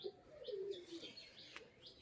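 Giribaz pigeons from an old bloodline coo close by in low, wavering, falling tones, with a few faint higher chirps and no talking.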